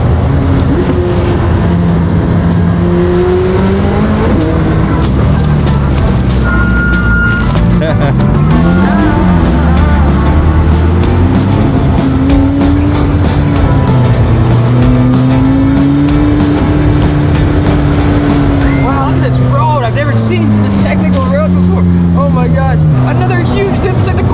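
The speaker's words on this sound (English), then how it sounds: "This car is so hooked up, it's unreal. Watch the turbos kick in." A McLaren 620R turbo engine roars loud and close under hard acceleration, its pitch rising and falling through gear changes as turbos spool, with excited talk over the engine throughout.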